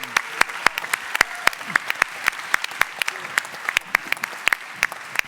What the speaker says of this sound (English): So an applause for the team, for Lian.